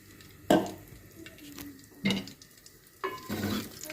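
Crushed green cardamom pods with their skins sizzle in melted desi ghee, stirred in three distinct bursts of scraping and crackle separated by quieter low sizzling, for carrot halwa.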